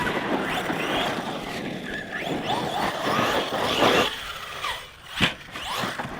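An RC car running on a 4S battery whines and rushes close by, its motor pitch rising and sweeping as it accelerates, with wind buffeting and a sharp squeal or impact near the end as it jumps and lands.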